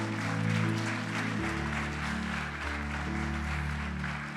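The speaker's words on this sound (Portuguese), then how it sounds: "Pode aplaudir o Senhor." Church congregation applauding during a sermon: steady, close clapping from a crowd over a sustained keyboard or organ chord that shifts pitch, with no talk.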